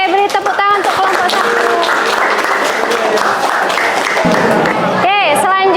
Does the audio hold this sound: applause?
yes